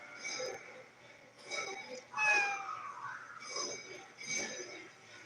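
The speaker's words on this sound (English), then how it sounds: "he's meowing too much while I'm doing my reading" A cat meows to be let out, repeated short cries rising and falling over low background noise, heard at moderate distance.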